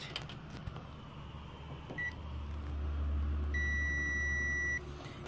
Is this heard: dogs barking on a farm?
no